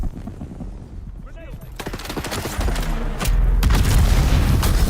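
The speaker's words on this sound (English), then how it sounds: "That is a crazy grenade" A grenade goes off in the sci-fi survival game Dune Awakening, a deep boom followed by crackling bursts and rising rumble that swells louder toward the end, with a voice briefly heard over the din.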